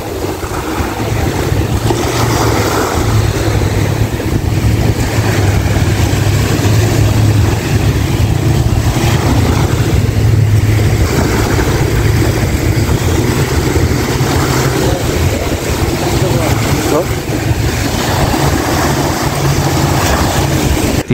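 Boat engine rumbling steadily throughout a water sports ride off Maafushi island in the Maldives, a loud continuous low drone mixed with wind buffeting the microphone and rushing water, with no talk.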